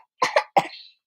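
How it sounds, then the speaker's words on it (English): Three quick, harsh coughs from a child, two close together then one more after a short pause, near and fairly loud. "Stop, cough, cover your mouth"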